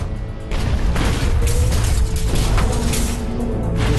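Depth charge exploding underwater near a World War II submarine: a deep, rumbling boom that swells and lingers as a loud, dense roar with no talk.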